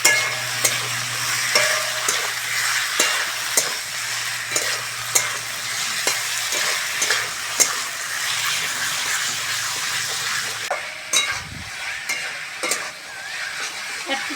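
Tomatoes for a fish curry sizzle in hot oil with a pinch of salt while a spatula scrapes and stirs the pan in repeated clinks and scrapes, a steady close frying hiss underneath, no talking.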